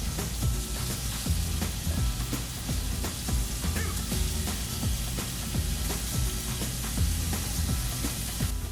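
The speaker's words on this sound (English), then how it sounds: "We're gonna throw them here in the hot part of the grill." Marinated Peruvian spicy chicken sizzles on the hot side of an open-flame grill, a loud, steady hiss dotted with close crackles and pops, with no talking.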